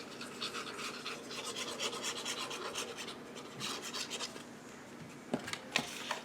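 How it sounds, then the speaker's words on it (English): Scored paper on a handmade favor bag is burnished along its fold lines. The result is quiet, rapid rasping strokes that come in bursts, followed by a few sharper taps and scrapes near the end. "You fold and burnish your score marks on the side and on the bottom"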